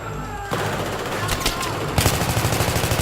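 Machine gun fire in the shooter game Battlefield 3: a sudden loud, rapid burst of gunfire with sharp, rhythmic repeated shots after a moment of voice, close and dominant.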